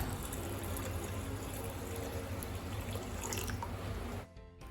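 Raw rice and fenugreek seeds are swished and rinsed in a bowl of water, giving a steady close wash of splashing and trickling that stops abruptly near the end.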